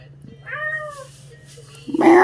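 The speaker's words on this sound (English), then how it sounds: "Meow, meow." A pet cat meows twice in quick succession, close and fairly loud, with a louder harsher cry bursting in at the end over a low steady hum.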